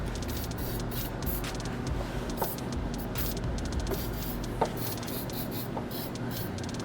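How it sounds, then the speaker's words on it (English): Belt conditioner is sprayed onto an engine belt in the engine bay of a rusty Ford Escape, giving a steady, close hiss that runs throughout with a few faint clicks and no talk. "I'm just gonna spray some belt conditioner on this belt."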